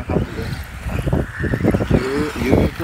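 A Tamiya DB01 radio-controlled car races over a dirt track with pulsing, buzzy motor whines that rise and fall in quick bursts, fairly near, with a few short high squeals.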